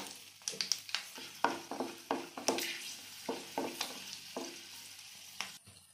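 Whole garam masala and cumin crackle and sizzle in hot oil for a Bengali masala kochu dish, with a series of sharp clinks and spoon stirs over a steady, fairly quiet hiss.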